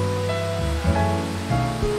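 Water flows and splashes over limestone rock in a forest valley near Krabi, Thailand, a continuous close rushing wash with a few brighter gurgles rising out of the stream.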